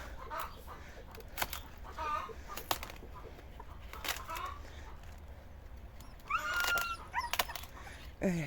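Chickens cluck and squawk in scattered bursts over a steady background hum, with a louder flurry of calls near the end.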